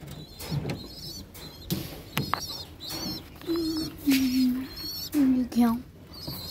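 Soft pigeon cooing, several low throaty coos in a row, with bird chatter and background voices around them.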